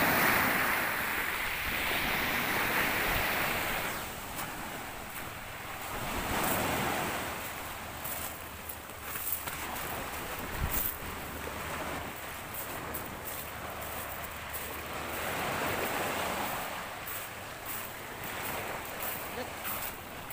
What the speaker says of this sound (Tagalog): Kaya lang malalaki po yung alon.